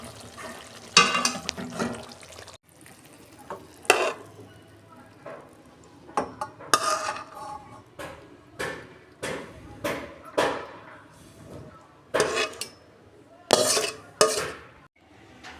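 Pabda fish curry poured from a pan, heard as close clattering of metal and scraping, with sloshing and a few sharp knocks in uneven bursts, no talk.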